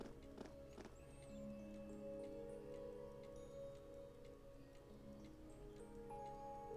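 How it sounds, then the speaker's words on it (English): Steady, subtle ticking clicks from an in-game mechanism in Trails of Cold Steel, repeating in a regular rhythm over a low droning background score. "There's a ticking sound effect."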